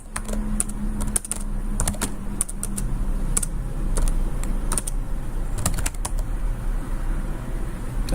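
Rapid, uneven keystrokes on a computer keyboard tapping out an email, close and clear over a low steady background hum, with short pauses between bursts.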